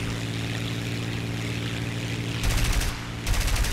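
Machine-gun bursts from the rear gunner of a Russian SU-2 bomber in War Thunder, two loud rapid volleys breaking through a steady propeller-engine drone.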